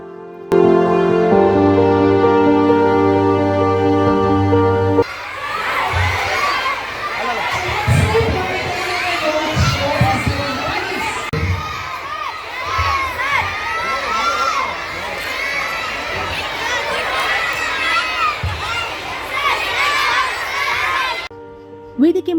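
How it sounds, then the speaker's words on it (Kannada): A few seconds of plain musical tones give way to a loud crowd of school students cheering and shouting as football star Jamie Knight comes on stage. The roar stays dense and close, with excited voices throughout. "ಜಾಮಿ ನೈಟ್ ವೇದಿಕೆ ಪ್ರವೇಶಿಸುತ್ತಿದ್ದಂತೆ ಚಪ್ಪಾಳೆ ಶಿಳ್ಳೆಗಳ ಸದ್ದು ಮುಗಿಲು ಮುಟ್ಟಿತ್ತು"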